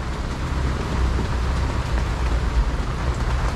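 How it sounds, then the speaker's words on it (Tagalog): Heavy rain falls with a dense, continuous roar close to the microphone, steady throughout and with no speech. "Lakas na naman ng ulan."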